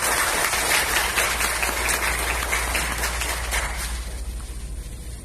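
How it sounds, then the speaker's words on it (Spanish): An audience at a tax and accounting conference applauds in dense, steady clapping that fills the room, then thins and tapers off toward the end. "Así que un aplauso para todos ustedes."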